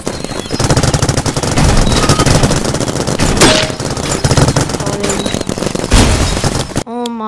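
Rapid bursts of paintball gun fire from the video game Big Paintball, loud and dense, with repeated shots and booms continuing throughout before a short tonal game sound at the end.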